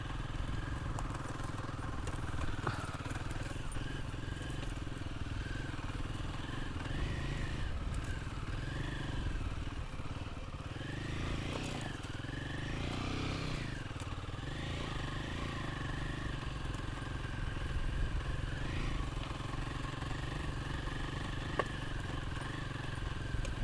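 A Royal Enfield Himalayan 450 motorcycle putters steadily down an off-road sandy descent, a low continuous engine rumble with occasional clatter, fairly quiet and without talk.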